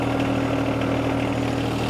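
A John Deere 1025R compact tractor engine idles at its low idle speed of about 1500 to 1550, giving a steady, even hum with a constant low drone close by and no change in pitch.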